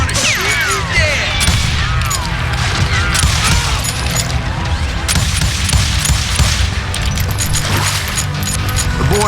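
Gunfire in the Western shooter game Call of Juarez Gunslinger, loud close shots and crashes packed densely over constant game noise and music, with a voice speaking briefly partway through.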